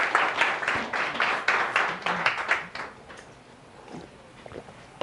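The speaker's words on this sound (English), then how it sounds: "So let's give him a round of applause." An audience applauds a speaker being introduced at an evening talk: steady clapping that starts fairly full, then thins and fades toward the end.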